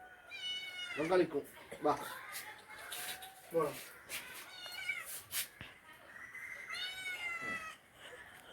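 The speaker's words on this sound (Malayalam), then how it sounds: "നല്ല അടിപൊളി പൂച്ചക്കുട്ടിയാണ്." A pet kitten meows repeatedly in thin, high mews at close range, interleaved with a person talking indoors.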